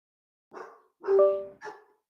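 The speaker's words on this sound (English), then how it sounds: "I know that's not Dan's dog." A dog barks three times indoors, short yappy barks with a brief pause between, moderately close and clear against silence.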